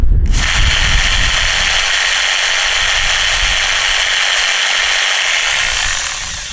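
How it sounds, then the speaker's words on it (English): A corded Sawzall reciprocating saw runs off a Bluetti EB3A portable power station, whining loud and steady after a sharp start click, then tapering slightly at the end with no talking. "plug in the sawzall and show that it runs"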